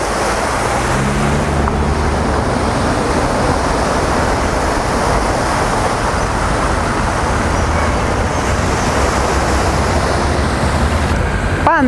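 Surf washes and churns constantly against an embankment in Lisbon nearby, loud and continuous, with wind buffeting the microphone.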